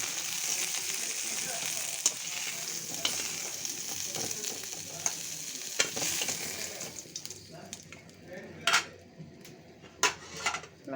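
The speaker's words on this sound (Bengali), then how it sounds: "মাংসটা একটু ভেজে নিচ্ছি।" Chicken meat for a roast fries in a pan, a steady close sizzle with stirring scrapes and metal utensil clinks against the pan, thinning toward the end into sharper clatters and taps.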